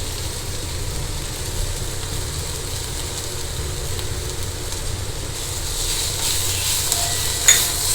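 Ivy gourd (kovakkai) frying in a pan with asafoetida, a steady close sizzle with faint stirring that grows slightly louder toward the end.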